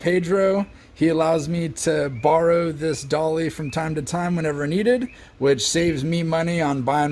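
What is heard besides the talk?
No everyday noise stands out behind the speech.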